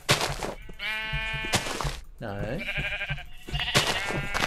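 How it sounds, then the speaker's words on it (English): Blocky sheep in the video game Minecraft bleat several times in short, close bursts, with someone talking loudly in between and over the calls. "Ladies and gentlemen, I have found sheep."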